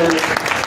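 Audience applause at a retirement ceremony for a senior clerk at the Parbhani RTO office, a steady dense wash of clapping filling the whole short moment at close range.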